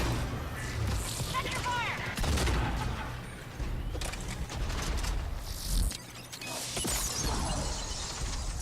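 Video game gunfire aimed at enemies on a ladder, sustained rapid shots with shattering and booming impacts, dense and loud throughout with brief gaps, a voice talking over it.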